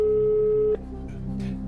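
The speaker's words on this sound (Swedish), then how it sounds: "Då ringer vi Lennart och kollar." A steady electronic telephone tone sounds on a TV quiz show as a call is placed, holding for under a second before cutting off into quieter studio background.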